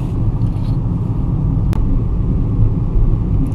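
A manual-transmission car driven by a student driver on a downhill stretch, its engine and road rumble steady and close throughout, with one brief sharp click partway through.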